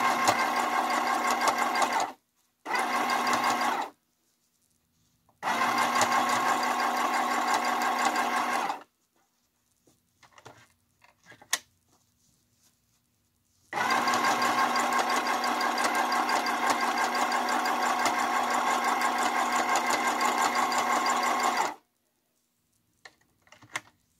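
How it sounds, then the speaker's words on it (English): A sewing machine stitches the bottom seam of a fabric craft kit in close, loud, even runs. There are two short bursts, then a longer run, a pause with small handling clicks, and a final long steady stretch. "Drop your foot and let's go. I'm going to sew at the closest to the edge."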